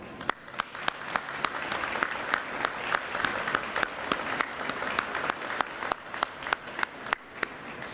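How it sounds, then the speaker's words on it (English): Applause for the Illinois National Guard at a governor's COVID-19 vaccine briefing: a small group clapping, with sharp distinct claps standing out over a softer steady patter throughout. "Please join me in giving our Illinois National Guard a big round of applause."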